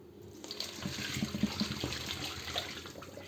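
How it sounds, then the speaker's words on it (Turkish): Dirty water from a burnt pan is poured into a kitchen sink, a steady, moderately quiet splashing and gurgling stream that runs throughout without a break. "Bunu lavaboya dökeceğim."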